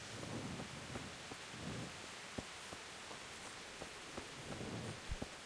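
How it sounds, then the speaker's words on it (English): Steady rain falls in the medieval role-playing game Kingdom Come: Deliverance, a soft, even hiss that stays faint throughout, broken by a few light thumps and taps. "It's raining right now."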